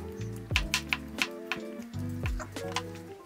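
A knife thinly slices raw brown or white mushrooms, giving a run of quick, light, close taps against a soft tonal background.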